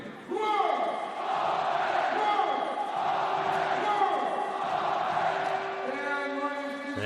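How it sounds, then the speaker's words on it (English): An ice hockey crowd in Bremerhaven roars and cheers steadily as a Pinguins Bremerhaven versus TPS Turku game winds down, a dense sustained arena din with whoops and horn-like tones under a commentator's voice. "And the crowd on its feet here tonight."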